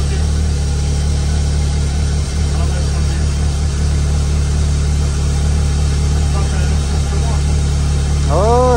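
A Peugeot 106 engine running steadily at idle in a garage, with a constant low hum throughout and people talking over it now and then.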